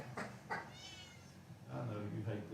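A pet cat named Rosie meows a few times, short mewing calls standing out near the mic, while a person talks over and between them.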